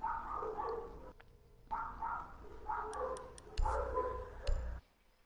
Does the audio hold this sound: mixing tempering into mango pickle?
no